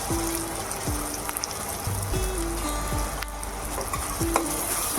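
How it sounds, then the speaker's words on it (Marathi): Blended tomato gravy poured into a hot pan for pav bhaji, bursting into a dense, loud bubbling sizzle with scattered spattering pops and faint tonal hums, steady and close, no voices. "आणि आता मी चार टॉमॅटो घेतलेले ते मिक्सरला वाटून घेतलेले त्याची ग्रेव्ही टाकते"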